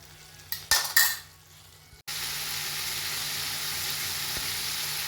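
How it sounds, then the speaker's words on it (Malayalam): Bitter gourd thoran being stirred in a pan, a few scraping clinks of a spoon against metal at first, then a steady close sizzle of frying that runs on evenly after a brief gap. "നന്നായി ഇളക്കി കൊടുക്കുക."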